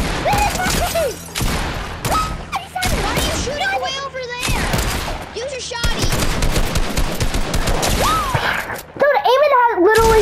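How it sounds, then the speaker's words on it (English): Rapid video game gunfire crackles in dense bursts throughout, mixed with thuds and booms, while several excited young voices talk loudly over the shooting. "How are you shooting it way off to the side?"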